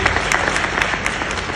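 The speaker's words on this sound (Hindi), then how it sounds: "सबसे पहले बहुत तालियां बजाएं" An audience applauds at a stage drama with dense, sustained clapping from a crowd, loud and close, continuing through the whole brief moment.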